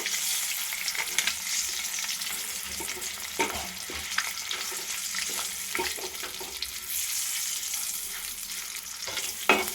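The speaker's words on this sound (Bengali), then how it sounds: "ডিমটা কিন্তু এখন নাড়াচাড়া দিয়ে আমি ভেজে নিচ্ছি, তবে ডিমটা কিন্তু খুব ডিপ ফ্রাই করব না" Eggs lightly frying in a pan while being turned and stirred for a Bengali egg curry, a continuous close sizzle broken by repeated scraping taps, with no talking.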